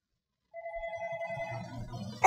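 A telephone rings with one sustained electronic tone during a call-in religious radio program, fairly faint and alone, and a sharp click ends it as the call is picked up.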